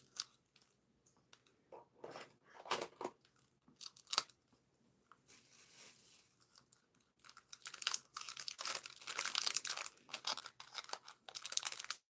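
Close scissors cut through material with sharp snips and crinkly tearing, the cutting turning busier and louder toward the end.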